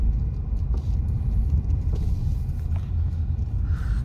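A car engine idles and rumbles steadily amid heavy traffic at a highway toll plaza on a Chandigarh to Ghaziabad drive, a continuous low drone with faint passing vehicle noise and no talk.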